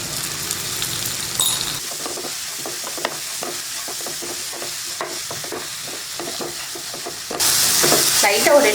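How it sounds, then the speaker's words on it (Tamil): A raw mango rice mixture being stirred in a pan, with soft scraping and sizzling strokes close by, continuous and fairly steady, getting louder with a brighter hiss near the end. "லைட்டாக ஒரு 2 நிமிஷமோ 3 நிமிஷமோ நல்லா கிளறிட்டு நம்ம சாப்பாடு சேர்த்துக்கலாம்."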